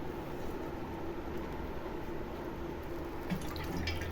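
Water splashed onto a heated pan on a stove while cooking protein green roti gives a steady, even hiss that holds without pause, close by and with no talk.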